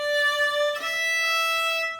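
A bowed string instrument plays a smooth, connected legato line for a bouree, the bow never stopping, with one note change partway through and a steady, sustained tone throughout.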